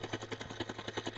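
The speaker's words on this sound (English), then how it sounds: "That's a helicopter." A steady rhythmic thudding of helicopter rotor blades with an engine hum in Grand Theft Auto, moderately loud and continuous, no voices.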